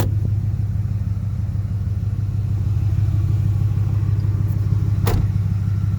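A 2006 Ford F150 4x4 pickup with the 5.4 Triton engine runs at a steady idle, a loud, close, even low rumble that holds throughout with one brief tap near the end.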